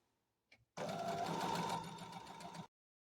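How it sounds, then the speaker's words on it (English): A sewing machine chain-stitches quilt block pieces for a beginner windmill block, one short tap and then a steady, close whir of about two seconds that stops cleanly. "So let's just go ahead and start sewing it."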